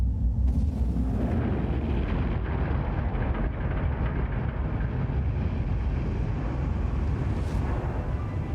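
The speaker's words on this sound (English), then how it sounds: "I'm starting the engines." Spaceship engines start up in the video game The Invincible, a loud continuous low rumble and roar with steady intensity throughout.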